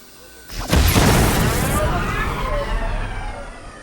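A weapon fires in the Predator: Hunting Grounds video game, played in VR. A single loud boom comes up close and then trails off into a long, rumbling decay.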